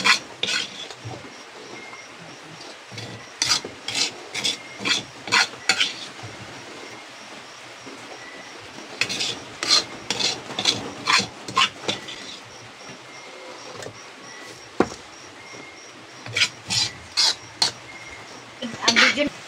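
Pansit being stirred and cooked in a pan, with repeated metal utensil scrapes and clinks coming in bursts against a steady kitchen background, and faint voices at times.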